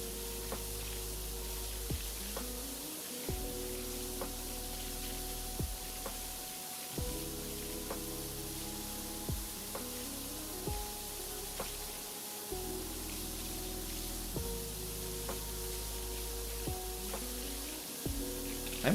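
A pressure washer in PowerWash Simulator, fitted with a wide spray head, hisses in a steady, continuous rush, broken by repeated low clunks and tonal game blips, with no talking.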